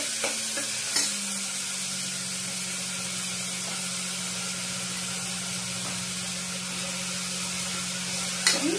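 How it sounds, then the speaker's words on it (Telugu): Tomato and onion frying with mustard seeds in a pan, a steady close sizzle and hiss with a brief stirring scrape near the start and again near the end. "అందులో ఇప్పుడు టమాటా, ఆనియన్ సన్నగా కడుక్కొని వేసుకోవాలి"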